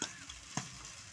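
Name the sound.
stir-frying chowmein with vegetables and egg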